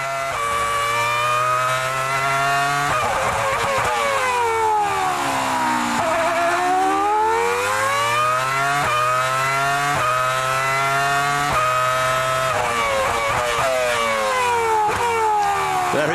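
Formula 1 cars race at the 2004 Bahrain Grand Prix, high engines screaming past with pitch sweeping up and down through gear changes and braking for a corner, loud and continuous, with commentary over them.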